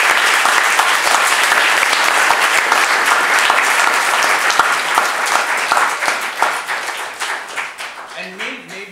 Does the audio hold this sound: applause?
yes